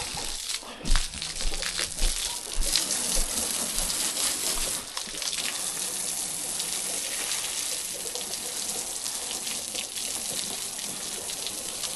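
Water gushes steadily from a hose, rinsing animal manure out of a truck's cargo bed outdoors, a loud continuous splashing rush with a few sharper splatters early on and no talking.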